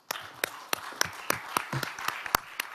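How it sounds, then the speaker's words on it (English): Applause from the audience for three panelists and two discussants at a security dialogue, with sharp, irregular claps of a small group, fairly close and moderately loud, over about three seconds. "could you please join my applauding 3 panelists and 2 discussants"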